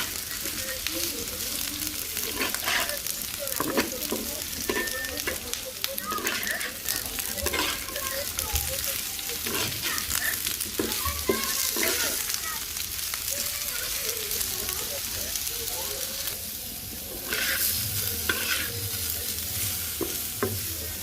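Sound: stirring frying food in a pan

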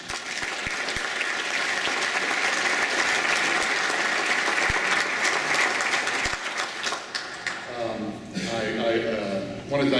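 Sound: applause

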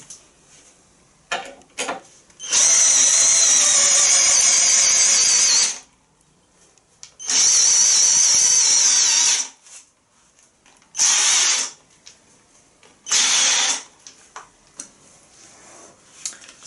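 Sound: cordless drill driver driving long screw

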